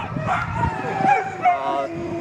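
Sled dogs harnessed together yip, whimper and bark in a quick, overlapping jumble, close and fairly loud, with people talking over them.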